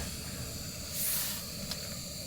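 A portable Optimus gas camping stove, fed from a screw-on canister and lit with a lighter, gives a steady broadband hiss that swells briefly in the middle, heard outdoors in Norway without any speech.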